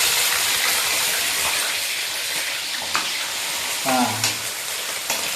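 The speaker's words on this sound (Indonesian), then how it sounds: "Kita langsung aja tumis." Shrimp stir-frying in hot oil in a pan, a steady close sizzle with a few stirring clatters, while someone briefly speaks over it.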